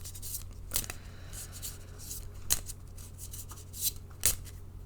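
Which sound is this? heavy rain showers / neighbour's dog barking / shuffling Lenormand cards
shuffling Lenormand cards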